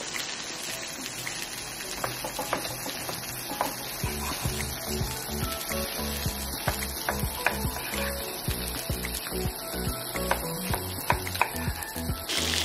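Meat sizzles in a frying pan, a dense, steady crackle with scattered pops and spits running throughout at an even, fairly loud level.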